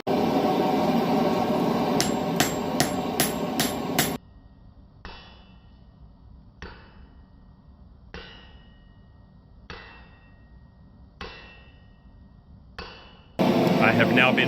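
Hammer blows ring out on hot wrought iron, a fast run of bright metallic clangs, then slower single strikes spaced a second or two apart with ringing decay, and a noisy roar at the start and end.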